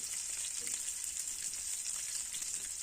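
Eggs fry in a pan with turmeric, salt and Kashmiri chili powder, giving a quiet, steady hiss of sizzling oil that holds evenly throughout.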